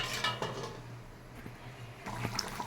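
A metal lid clanks onto a cooking pot of simmering curry in a home kitchen, a couple of sharp clinks over steady bubbling and hiss, with a low hum beneath.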